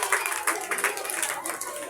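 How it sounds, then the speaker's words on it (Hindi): Audience applause for a girl at a children's 14 August program, a dense continuous patter of clapping hands lasting the whole moment, fairly loud and close with no talk over it. "तालियां बेटी के लिए, जोरदार तालियां।"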